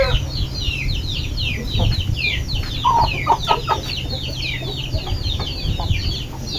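A hen clucks repeatedly in a backyard poultry flock kept for crested fowl, with soft broken calls close by over a steady low farmyard hum and chattering birds in the background.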